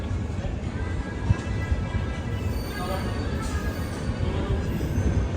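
Ala Hazrat Express sleeper train pulling out of a station on the Ajmer to Bhuj route, a continuous low rumble of wheels and carriages heard from inside, steady and moderately loud.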